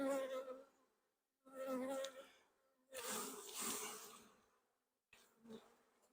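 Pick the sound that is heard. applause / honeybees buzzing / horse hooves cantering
honeybees buzzing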